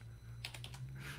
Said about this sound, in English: I'm just typing a D.